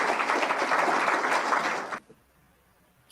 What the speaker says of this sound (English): Listen to the round of applause that Lula got there